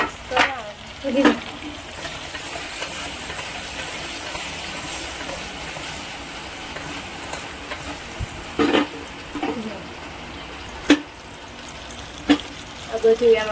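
Chillies, tomatoes and onion frying in a pan while being stirred for a stuffed brinjal curry, a continuous sizzle broken by several sharp scraping strokes of a spoon, fairly close and with no talking.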